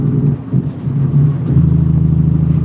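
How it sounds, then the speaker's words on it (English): A truck's engine brake rumbles while downshifting after a speed limit drop, a low, steady throbbing drone that swells and grows stronger toward the end. "And that's the sound of my engine brake."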